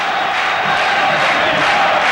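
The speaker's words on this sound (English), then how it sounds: "Crowd on." Dense stadium crowd noise at a Toulon versus Clermont rugby match, a loud, sustained roar of cheering and chanting that stays steady throughout, with no clear voice standing out.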